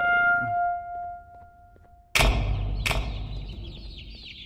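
After a few soft electronic tones, a sudden loud crash and shrieking cry burst in as the monster bird chases the player in Garten of Banban. The harsh noise stays loud and sustained to the end.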